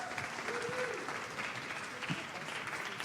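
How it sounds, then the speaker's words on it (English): An audience at a talk claps in a brief, fairly quiet round of applause, a steady patter of many hands with faint voices mixed in. "let's give him a round of applause"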